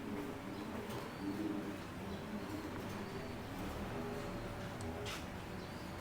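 Soft, low pigeon coos repeat faintly over a dense, steady background hum, with no voices.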